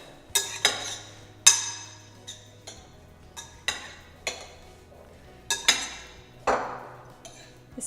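A quinoa salad is mixed in a bowl, with a series of sharp clinks and scrapes of a utensil against the bowl at an uneven rhythm, close and fairly loud, with quiet gaps between strokes.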